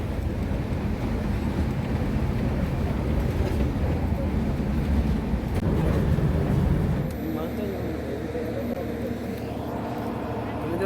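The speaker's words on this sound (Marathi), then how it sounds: "मित्रांनो, आता ट्रेन मध्ये चढलो आम्ही." Inside a moving general-class passenger train coach, a steady, heavy rumble fills the air, easing to a lighter, smoother rattle near the end, with muffled voices underneath.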